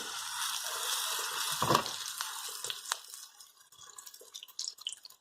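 London broil steak pan frying with a steady crackling sizzle that slowly fades and thins out, with a few brief clinks and scrapes close by.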